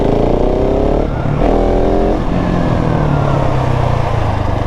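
A KTM 690 motorcycle in first gear revs hard for a wheelie, its loud, close engine climbing in pitch, dipping briefly, then surging again and holding a strong drone.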